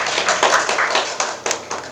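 An audience applauds as a startup founder walks on stage to give an investor pitch at a 2019 demo day; steady, dense clapping runs through the whole stretch with a few sharper claps standing out.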